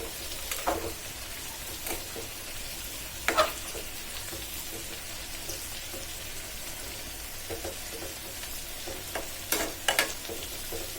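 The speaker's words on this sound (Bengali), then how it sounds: "আমার তিত করলা ভাজি একদম হয়ে আসছে" Sliced bitter gourd frying in a pan, a steady close sizzle with intermittent scraping clinks of a spatula stirring and turning the pieces every second or two.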